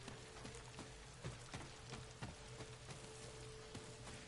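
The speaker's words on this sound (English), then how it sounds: "Gorgeous environment in the rain." Rain falls in the video game Ghost of Tsushima, a quiet, steady patter with faint scattered drop ticks over a low ambient hum, with no voices.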